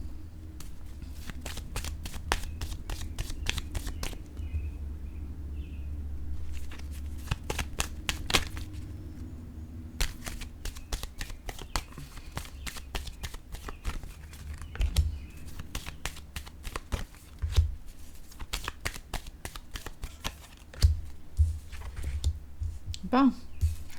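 Tarot cards are shuffled during a reading, giving long runs of rapid, crisp riffling clicks that stop and start throughout. A quiet background hum sits underneath.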